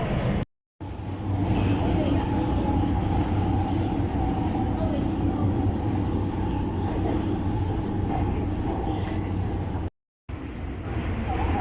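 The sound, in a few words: train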